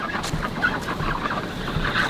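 Chickens cluck softly and intermittently nearby, with ducks also present, over a steady background hum.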